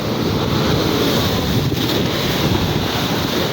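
Steady wind buffeting the microphone, a continuous roaring rush with no letup, like gusts outdoors near open water.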